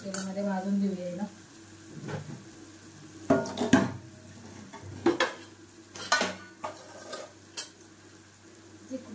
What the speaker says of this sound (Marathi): आपली मिरची चांगली तेलामध्ये भाजते